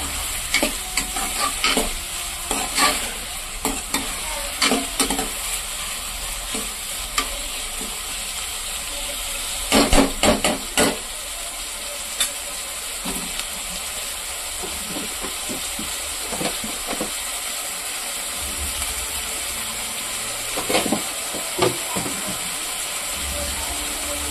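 Chopped onion pieces fry in oil in a pan, giving a steady, close sizzle under repeated scraping and clacking of a spoon as they are stirred in bursts.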